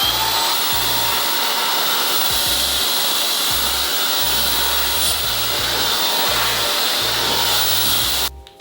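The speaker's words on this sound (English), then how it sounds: "blow dry it." A hair dryer blows steadily on a wig, a loud continuous airy roar with a low hum that pulses a little as it moves, then cuts off abruptly at the end.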